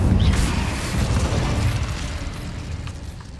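An Incendio fire spell blast in Hogwarts Legacy, a loud roaring burst of flame with a dense, rumbling whoosh that sustains and slowly fades.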